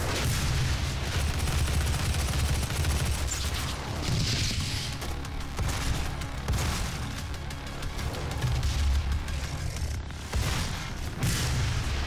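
Pistol gunfire in the video game Doom, a rapid series of sharp loud shots and booms over dense game noise and music, continuous through the whole stretch.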